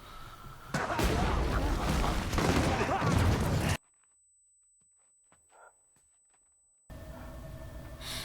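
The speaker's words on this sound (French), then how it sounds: "C'est quoi ces explosions là?" Loud, rumbling barrage of explosions from the TV series Last Samurai Standing lasting a few seconds, then it cuts to near silence before dense noise returns.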